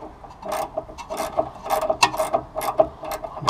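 Bolts are tightened on the restored front end of a 1972 Oldsmobile Cutlass: a close, uneven series of ratcheting clicks and metallic scraping bursts, loud and alone without talk.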